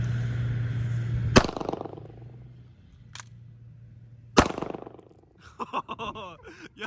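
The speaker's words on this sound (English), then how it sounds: "I'm gonna shoot from the 3-yard line just so I don't miss. Here's hoping the pistol doesn't jam." A Hi-Point pistol fires three sharp, loud shots at the 3-yard line over a low hum, each crack followed by a short echoing decay, with some faint clattering afterward.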